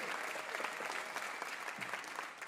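Live audience at an acoustic music broadcast applauding and cheering, a steady, fairly soft bed of many hands clapping with no voices standing out.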